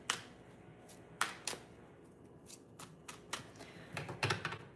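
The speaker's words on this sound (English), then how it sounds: "Let me shuffle cards" A deck of tarot-style reading cards being shuffled by hand, soft papery riffles and snaps coming in short irregular bursts, close and quiet.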